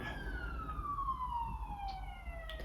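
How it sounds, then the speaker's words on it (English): A police siren wails on a busy city street, its long descending sweep drifting down over steady traffic rumble, moderately distant and continuous, with a second fainter siren tone running above it. "you're gonna hear sirens and cars going by like 24/7 in my videos"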